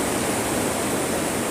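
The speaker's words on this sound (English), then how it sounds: "Quite a bit of water that runs down off the top of this greenhouse down these sides here." Heavy rain streams off a greenhouse roof and down its sides during a rainstorm in a vegetable garden, a loud, continuous, hissing rush with no break.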